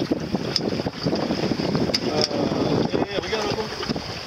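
Wind buffets a sailboat out on the water during a regatta, making a constant rough rush with faint voices underneath.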